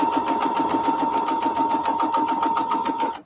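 Sewing machine stitching through paper and fabric for a foundation paper-pieced strawberry quilt, running at a steady fast rhythm with a constant whirring hum and rapid repeated needle clicks, close and continuous for the whole stretch before stopping at the end.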